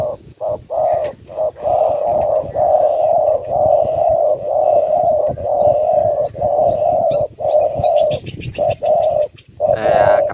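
Caged birds, freshly caught decoys, call loudly and close by in repeated cooing bursts with short gaps between them, one after another throughout.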